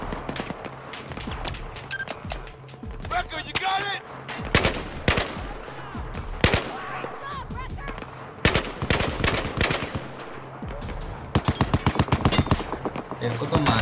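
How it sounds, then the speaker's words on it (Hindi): Rapid machine gun bursts and scattered gunshots from Battlefield 4's Tashgar mission rattle nearly nonstop, loud and close, with sharp cracks standing out, while a player talks over the gunfire. "अबे मशीन गन चला रहा है"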